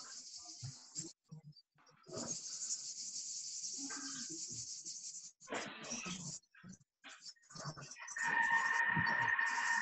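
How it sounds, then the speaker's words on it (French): Cicadas drone in a loud, continuous, high buzzing chorus that swells and breaks off in stretches, with intermittent talk and kitchen noises in between. "Ah oui, les cigales. Les cigales. C'est magique."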